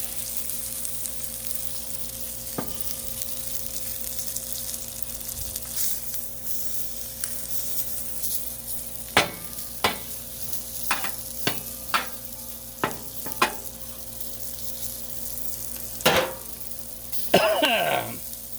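Corn on the cob sizzles on a Blackstone griddle in a steady background fry, with a string of sharp scraping and tapping strokes from a spatula and a brief burst of spraying and clattering near the end.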